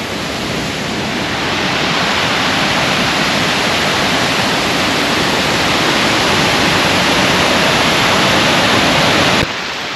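A loud, steady roar of a waterfall in Luang Prabang, Laos fills the whole stretch, constant and broadband, cutting off abruptly just before the end.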